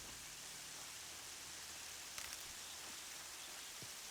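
Rain falls in the Horizon Zero Dawn game world as a soft, steady hiss, faint and even throughout, with a few brief drip-like ticks near the middle and end.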